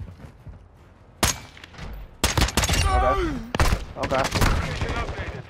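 FTAC Recon rifle fire in a first-person shooter video game, several sharp bursts of loud shots and short volleys with clattering game effects, while a player speaks briefly over the action.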